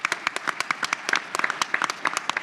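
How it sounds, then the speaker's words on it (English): Another round of audience applause at an economic forecast event honouring a CFO of the Year; a small crowd clapping with distinct individual claps, moderately loud, over a couple of seconds. "Yes, another round of applause."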